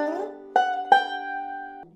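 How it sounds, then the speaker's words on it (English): A banjo plays the short shave-and-a-haircut ending lick: a sliding opening note, then two quick plucked notes and a held ringing tone that cuts off into a final low note, close and alone. "The shave and a haircut and two bits lick is the ultimate ending lick for banjo players"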